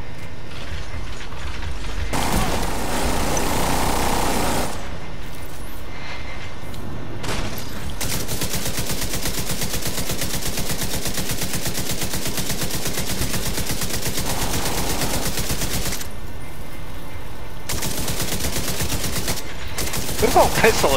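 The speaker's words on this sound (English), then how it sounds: "This the D50 survival pistol." Gunfire from the D50 survival pistol in The Division 2 during a Black Tusk invasion at the Federal Emergency Bunker, with repeated loud shots and mechanical clatter filling the scene throughout.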